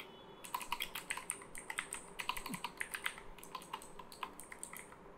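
Code typed on a computer keyboard: a quick, close run of crisp key clicks in an uneven rhythm, with a brief pause partway through.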